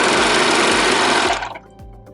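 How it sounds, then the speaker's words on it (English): A serger stitching straight down a fabric seam, a fast steady mechanical whir with a rhythmic low thump that winds down and stops near the end. "just stitch straight down your project"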